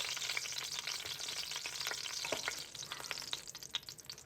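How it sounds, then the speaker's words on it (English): Beef stew meat searing in hot rendered beef fat for a red chili dish, a steady close crackling sizzle with bright popping spatters throughout. "This stew is getting a sear, boosting that dark chili flavor."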